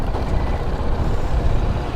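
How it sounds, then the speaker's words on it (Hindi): TVS Apache RR310 motorcycle rolling in fourth gear with the throttle closed, a steady low engine and drivetrain rumble close by, even and continuous without any revving. "ये मैंने फोर्थ गियर डाल दिया है, बाइक अभी भी चल रही है"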